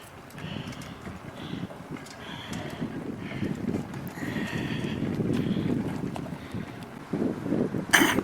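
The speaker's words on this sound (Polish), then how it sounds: "to wiatr jest i będzie słychać" Gusty wind buffets a microphone with no windscreen, making low rumbling thumps that swell and fade throughout, with brief higher sounds faintly behind them.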